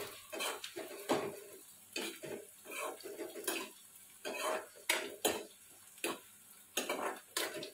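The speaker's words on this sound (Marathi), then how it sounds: "इथे चवळीची भाजी बनवत आहे" A spoon stirs cowpea greens cooking in a metal pot on a home stove, scraping and clinking against the pan in repeated close strokes, with a faint sizzle underneath.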